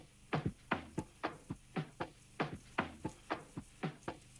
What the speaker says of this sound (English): Next up we have this percussion loop that we have used in order to complement the top loop and the kick